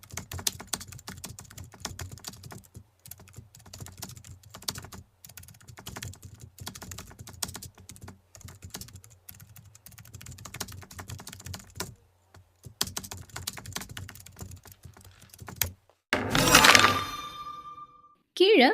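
Quick, close computer keyboard typing while booking details are filled into a form, dense clicking bursts running steadily with short pauses, then a louder, harsher noise burst near the end.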